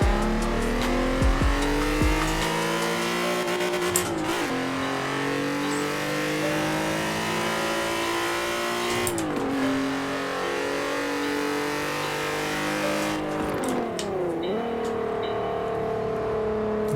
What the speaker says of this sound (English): It's a V engine, so it's going to sound like a V engine.